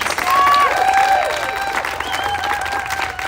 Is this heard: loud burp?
no